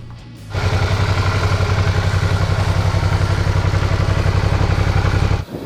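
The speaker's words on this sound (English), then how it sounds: "Fill it up with oil and then crank her over and see what happened." A motorbike engine cranks over after an oil refill, its starter churning in a loud, fast, even pulsing rhythm close by for about five seconds before cutting off.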